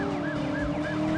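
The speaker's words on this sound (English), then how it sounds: "Do you hear the siren?" A police siren in a video game wails, cycling up and down steadily over a low engine hum, loud and close.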